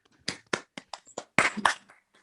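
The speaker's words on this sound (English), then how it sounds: "show a wee bit of appreciation for Jennifer, if we give her a little round of applause, that would be really wonderful" A small scattered round of hand claps on a video call, close and uneven, with about a dozen distinct claps of varying loudness and no voices.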